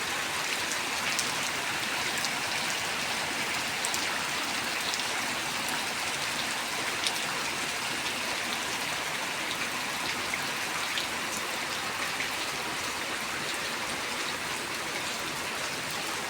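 Steady rain falls during a rainy-season storm, a dense, even hiss of drops on surfaces continuing without break, loud and close, with no talking.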